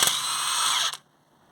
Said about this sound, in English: Now I'm going to take off this 24mm multi-spline nut from here.